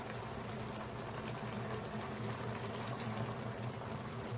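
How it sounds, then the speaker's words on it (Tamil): Steady, continuous rush of coconut paste and water filling a pot, a dense watery wash that holds an even level throughout with no voices. "அந்த தேங்காய் ஊற்றி கொஞ்சம் தண்ணி அழைச்சி அதிலே ஊற்றுவோம்"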